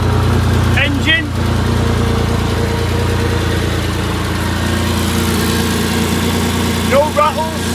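A 2002 Porsche Boxster 2.7-litre engine from a salvage yard idles cold, with a steady, even rumble holding through the whole stretch and brief voices near the start and end.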